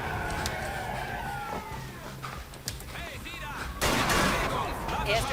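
Gunfire in the video game Splinter Cell: Conviction, set at the Lincoln Memorial, with a few sharp shots and a burst cutting through game noise while people talk over it.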